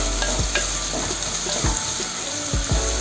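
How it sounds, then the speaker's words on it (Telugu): Mutton and cucumber (dosakaya) fry in a pot with a steady sizzle, stirred now and then with a few scraping knocks, close and moderately loud with no talking. "ఇట్లా వేయించుకోవాలి."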